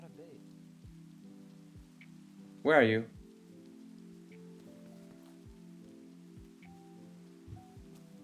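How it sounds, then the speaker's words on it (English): Steady soft rain falls in a video game world, a faint continuous patter running throughout, briefly interrupted by a louder synthetic burst, with a voice speaking over it. "It's raining again."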